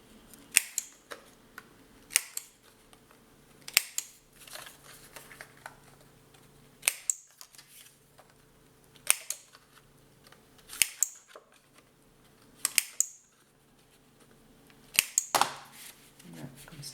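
A corner rounder punch clips the corners of a patterned scrapbooking paper card, giving sharp separate snaps in small pairs and clusters, close and fairly quiet, with soft handling noise between them.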